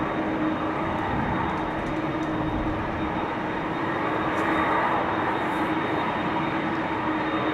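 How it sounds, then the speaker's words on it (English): Delta Airbus A330 jet engines taxiing at Amsterdam Schiphol Airport on a windy, showery day: a steady, broad roar that holds evenly throughout, with no voices. "You are also picking up the sounds of the engines of a Delta A330. Taxiing away."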